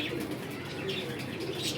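Pigeons in a loft coo steadily and close by, low murmuring calls running continuously with faint chirps and rustling on top.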